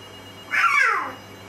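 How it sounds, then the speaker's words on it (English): A toy phone rings once with a short, bright electronic warble that rises and falls, loud and close over a quiet room, with no talking. "phone's ringing."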